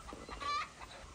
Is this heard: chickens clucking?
yes